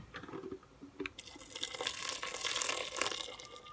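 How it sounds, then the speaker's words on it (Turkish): Water running from a tap into a pot for a cabbage soup, a steady gushing pour that swells through the clip with slight splashing, close and fairly loud, with no talking. "1 litre su eklemiş oldum."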